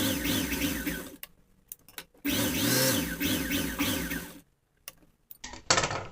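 Sewing machine stitching a blouse seam, a whirring mechanical motor running in short bursts that start and stop, fairly close and moderately loud, no speech.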